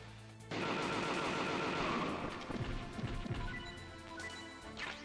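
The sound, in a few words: gunfire in video game Metal Gear Solid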